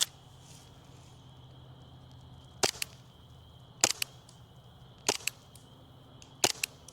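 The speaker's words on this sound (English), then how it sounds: "And now we're going to shoot red. And again, these are Mad Bull reds." An airsoft gun fires Mad Bull red tracer BBs in four sharp, snapping bursts, each a quick double crack, spaced a second or so apart over a faint steady hum.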